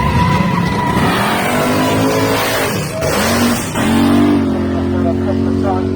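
A 1969 Chevy Chevelle 307 cubic-inch drag car sits at the starting line, its loud engine rising and falling through repeated revs, with an announcer talking over it.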